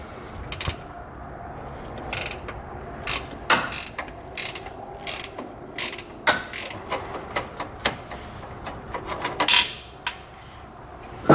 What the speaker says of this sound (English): I'm just gonna use a box wrench uh, to, to break this one free